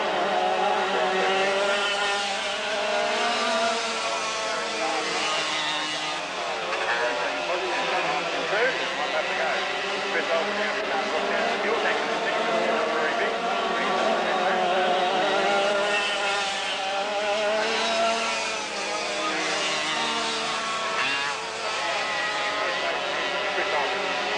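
Dirt karts race around a track, engines droning and rising and falling continuously in the distance while a commentator speaks over them throughout.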